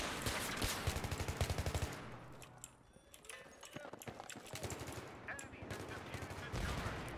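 Gunfire in the first-person shooter Battlefield 3, bursts of rapid automatic shots at the start and end with scattered game effects between, heard under a player's commentary.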